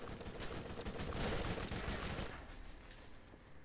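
Rapid volleys of gunfire from Crimson Lance soldiers in the video game Borderlands crackle in dense bursts, loud and busy at first, then thinning toward the end.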